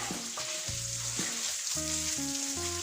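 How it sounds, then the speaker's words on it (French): Rice being stirred into hot oil in a pan for a saffron paella-style dish, with a steady close sizzle and intermittent scraping stir strokes. "voilà, imbiber tout le riz dans l'huile"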